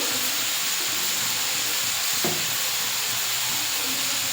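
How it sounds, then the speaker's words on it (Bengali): Spices with salt, turmeric and chili powder fry in a village kitchen pan, giving a loud, continuous sizzling hiss with one brief clatter partway through. "জিরের গুঁড়ো দিয়ে ভালো করে কষে জল দিয়ে দেবো।"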